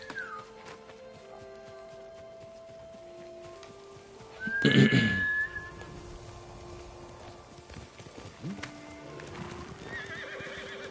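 A horse whinnies loudly partway through while hooves clip-clop steadily, alongside soft electronic tones in the background.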